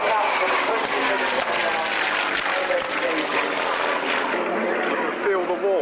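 A propeller aircraft taking off at the 1997 Biggin Hill air display: a loud, steady engine roar fills the whole stretch, with people talking over it.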